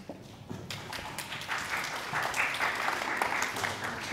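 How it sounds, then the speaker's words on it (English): A small audience at a live barbering event at Doncaster College claps together, a steady patter of many hands building slightly and holding at moderate volume, with faint voices mixed in. "You've got a little round of applause there"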